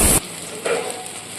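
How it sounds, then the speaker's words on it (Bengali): Pakoras frying in hot oil for an Ekadashi offering, a steady soft sizzle with a louder burst at the start and a brief swell midway. "এগুলোকে একটু লাল লাল করে ভেজে নিই"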